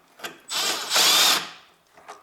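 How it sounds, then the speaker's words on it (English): A short whirring burst from a power tool driving a 10mm socket to loosen bolts on a Honda Civic 1.8 R18A1 air filter housing. It runs in two close, fairly loud pulses with faint clicks before and after. "And now I take my 10mm socket. Okay, and 10mm socket, and I open this."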